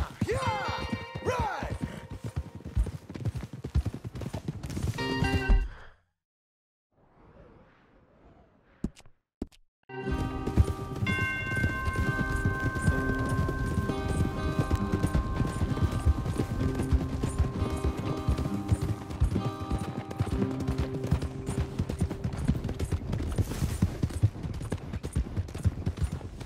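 Horses' hooves clop along steadily under a dense, busy Red Dead Redemption 2 soundscape, with a brief near-silent gap partway through before the galloping resumes.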